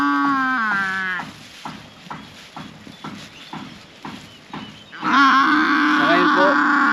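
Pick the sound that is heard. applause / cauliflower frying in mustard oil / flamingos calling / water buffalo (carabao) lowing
water buffalo (carabao) lowing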